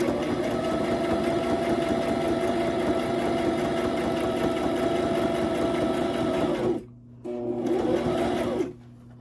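A sewing machine runs steadily at close range while stitching along the edges of fabric for an embellishment clip, with a hum that stops briefly, starts again, and then falls quiet near the end.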